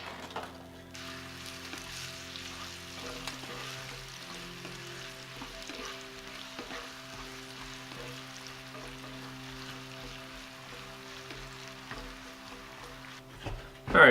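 Garlic and shallots softly sizzling in a pan, a faint steady crackle with low background hum and a brief clatter at the very end.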